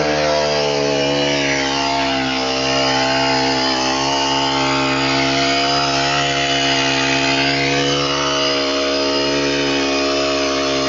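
A brush cutter fitted with a weeder head tears through tough grass, its engine holding a loud, steady, buzzing whine close by for the whole stretch, with no voices over it.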